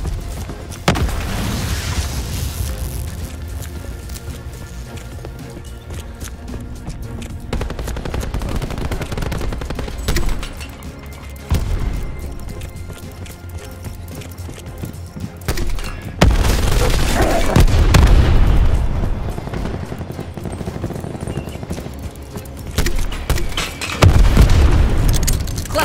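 Artillery barrage in Call of Duty: Black Ops 4 gameplay, a long run of heavy booming explosions mixed with bursts of gunfire, loud and close, swelling and fading in several waves.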